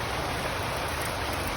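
Steady rain keeps falling, making a dense, even hiss with no breaks and no voices.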